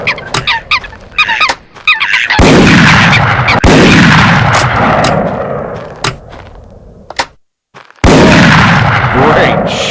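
Shotgun blasts ring out in a waterfowl hunting video game, several loud sharp reports spaced a few seconds apart, each followed by a rolling echo, with honking geese and bird calls in between.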